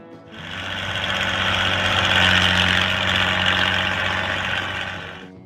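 A Farmall 560 diesel tractor, an International Harvester model introduced in 1958, idles steadily with a low, even engine hum that holds loud and close for several seconds with no talk over it.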